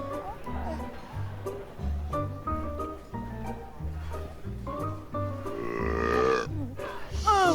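Exaggerated, drawn-out burps from a Burping Grandma game come amid playful voices, over a steady bouncy game tune, with a louder, gurgling burp near the end.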